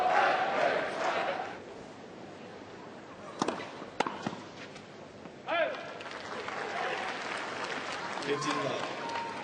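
At the 1998 Australian Open quarterfinal, a tennis crowd breaks into applause and cheering after the first set, rising in waves under a commentator's voice.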